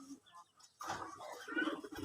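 Native red and white pigeons give low, soft coos in a brief burst, faint and close, with some murmuring voices mixed in.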